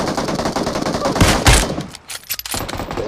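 Rapid automatic gunfire from the mobile battle royale game PUBG Mobile, a loud continuous burst of shots that swells into heavier blasts midway, then breaks off briefly before scattered shots resume.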